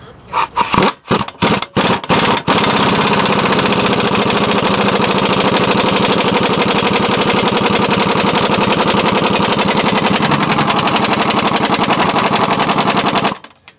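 An Ingersoll Rand titanium pneumatic impact gun fires several short, sharp rattling bursts, then hammers continuously for about eleven seconds before cutting off abruptly. The sound is loud and close, and no one talks over it.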